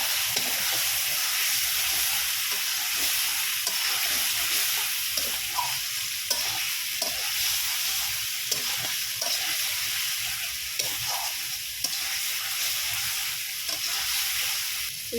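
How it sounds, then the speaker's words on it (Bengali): Fish being sautéed in a spice masala in a pan gives off a steady, continuous sizzle with scattered soft stirring scrapes, close and fairly loud, with no talking. "এই যে দেখুন, মাছটা সুন্দরভাবে আমি কষাচ্ছি।"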